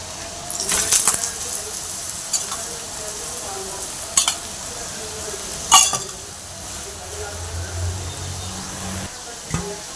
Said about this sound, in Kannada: ಎಣ್ಣೆ ಬೇಕಾದರೆ ಎಣ್ಣೆ, ಇಲ್ಲ ತುಪ್ಪ ಬೇಕಂದರೆ ತುಪ್ಪ, ನೀವು ಯಾವ್ದು ಯೂಸ್ ಮಾಡ್ಕೊಳ್ತೀರೋ ಅದನ್ನು ಹಾಕ್ಕೊಂಡು ನೀಟಾಗಿ 2 ಕಡೆನೂ ಬೇಯಿಸ್ಕೊಳ್ಳಿ